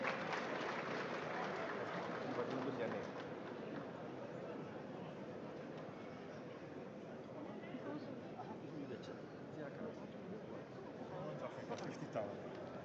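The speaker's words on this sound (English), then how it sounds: "A round of applause for them." Sustained applause from a large ceremonial crowd at a royal jubilee gathering in Ghana, steady clapping throughout, louder in the first few seconds and then settling into a continuous dense roar.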